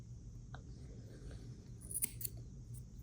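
Scissors trim a crochet yarn end close to the work: a few faint, quick snips in a quiet room, clustered near the end.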